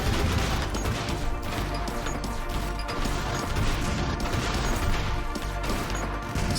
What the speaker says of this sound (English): Somebody's shooting these big purple bullets.